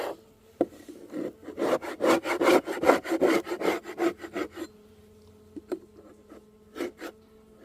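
A tool scrapes the wooden bottom of a beehive in rapid rasping strokes, close and loud at first, then a pause before a few scattered scrapes and knocks, with no talking.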